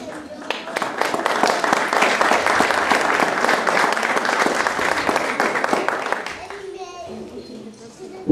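Warm applause for kindergarten children at a rural school graduation ceremony, a full, sustained round of clapping from a crowd of families that thins and fades near the end, with children's voices heard faintly.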